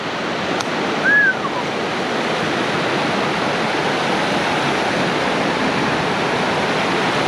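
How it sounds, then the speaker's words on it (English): Steady, broadband rushing of a fast-flowing small stream fills the scene continuously, with a brief high chirp near the start. "there's a lot of water coming down today"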